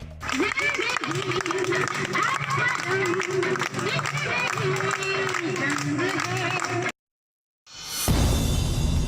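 Police officers clapping together to welcome back a colleague recovered from coronavirus, a sustained patter of many hands with voices chattering over it, then a brief silence and a sudden burst of different noise.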